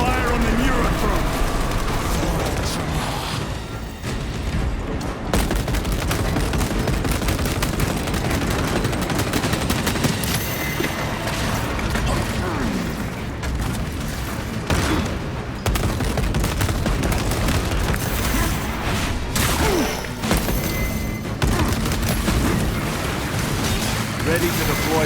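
Sustained heavy gunfire pours onto the Neurothrope in Warhammer 40,000: Space Marine 2, a loud, dense stream of rapid shots and booming blasts with barely a pause, with voices mixed into the battle din.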